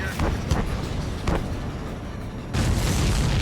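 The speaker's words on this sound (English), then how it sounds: "The missile hit the supply ship dead on." Missile striking a supply ship in Ace Combat 7: a heavy rolling boom amid a constant roaring background, with sharp bursts and a second surge of blast noise near the end, loud and close.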